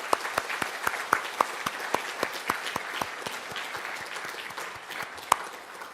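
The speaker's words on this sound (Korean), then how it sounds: "이 축복하는 마음으로 크게 박수 한번 하겠습니다" Church congregation applauding during a Sunday service, a steady wash of many hands clapping with a few sharper individual claps standing out, moderately distant and reverberant, fading slightly toward the end.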